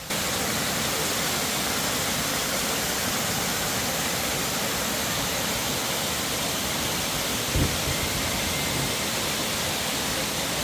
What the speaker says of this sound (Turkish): Burası da küçük şelaleymiş.